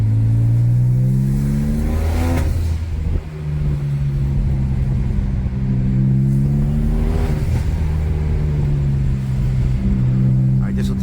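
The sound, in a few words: BMW 335i N54 manual engine accelerating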